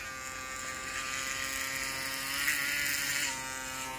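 Victor electric hair clipper running and cutting hair, a steady close motor whine with a slight rise in pitch and load partway through, alone without talk.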